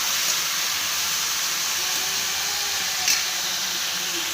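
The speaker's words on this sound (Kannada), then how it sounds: "ಸಣ್ಣಗೆ ಹೆಚ್ಚಿದಂಥ ಟೊಮೆಟೊವನ್ನು ಹಾಕಿ ಚೆನ್ನಾಗಿ ಬಾಡಿಸಬೇಕು." Chopped tomatoes sautéing with softened onions in a pan for a Kannada-style curry, a steady, even sizzle and hiss throughout with no talking.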